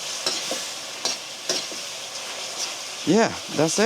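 A fish fillet is stirred through sauce in a hot pan at a Thai kitchen, giving soft scraping stirs and light sizzle, with a brief spoken remark and some chirpy tonal sounds near the end.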